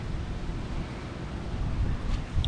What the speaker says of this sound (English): It is a very, very windy, cloudy day.